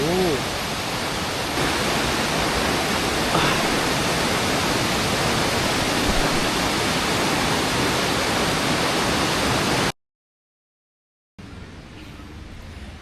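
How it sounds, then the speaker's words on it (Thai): Wang Bua Ban waterfall at Huay Kaew near Chiang Mai roars with a steady, dense wash of falling water, close and constant, before a short break and then more rushing water. "น้ำตกวังบัวบานนะ ตอนนี้นอกจากจะเป็นหน้าผาแล้วเป็นน้ำตกเลยนะ"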